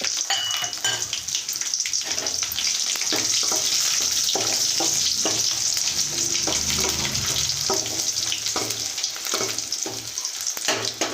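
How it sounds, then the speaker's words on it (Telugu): Loud, steady sizzling of tempering spices, garlic and dried red chillies in hot oil, close up, with occasional stirring clinks and no talking. "పోపు దినుసులు వేయాలి వెల్లుల్లి ఎండుమిర్చి"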